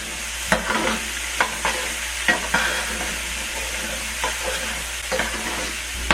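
A burger patty sizzles steadily in a hot pan with onions, its frying hiss broken by repeated scrapes and turns of a spatula, close and alone.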